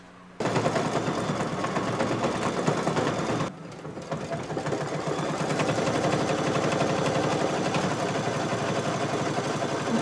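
An embroidery machine runs a dense satin stitch around the edges of fabric shelf pieces on a quilt block, a steady rapid mechanical chatter close by, with one brief pause before the stitching resumes.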